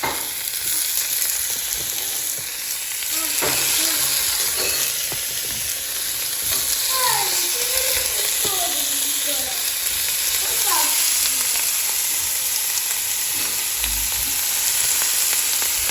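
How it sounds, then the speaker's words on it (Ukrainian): Thin chicken fillet slices, salted, seasoned and sprinkled with a little oil, fry steadily in a hot pan, a continuous close sizzle with occasional scrapes and clicks, while a voice talks faintly in the background. "Дві хвилини воно в мене підсмажується з одного боку і перевертаємо"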